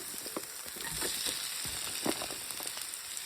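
Sliced onions fry in hot oil for chicken biryani, giving a continuous close sizzle with occasional crackles and stirring scrapes.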